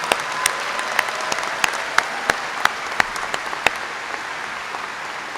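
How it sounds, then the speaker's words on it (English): Sustained applause from an audience at a state police academy graduation honoring the 152nd trooper candidate class, dense steady clapping with a few sharper individual claps standing out, no talking. "Let's give them another big round of applause."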